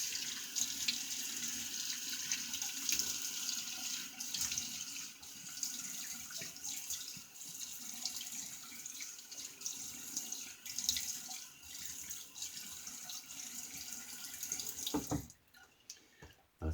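Water runs steadily from a sink tap as a razor is rinsed after a wet shave: a continuous, fairly quiet splashing hiss that stops abruptly near the end.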